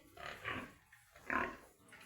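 A pig grunts and snorts in two or three close, soft bursts with quiet pauses between them.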